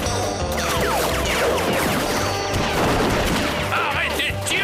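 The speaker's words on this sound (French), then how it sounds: "Arrêtez de tirer, abruti, arrêtez!" In a Lucky Luke cartoon during a bank hold-up, rapid bursts of gunfire mix with crashes and whooshing effects in a dense, continuous barrage, with cartoon voices and music underneath.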